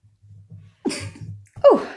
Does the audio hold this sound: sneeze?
yes